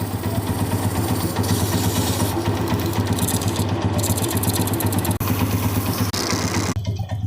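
A motorcycle engine idles steadily with a loud, constant mechanical drone and rapid low throbbing, close by, cutting off abruptly at the end.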